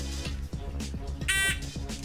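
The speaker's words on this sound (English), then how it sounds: "it's going to make a buzzing noise." A 3-volt buzzer in an electric steady hand game sounds once as a short, harsh, high-pitched buzz against a background of rhythmic tapping and a voice.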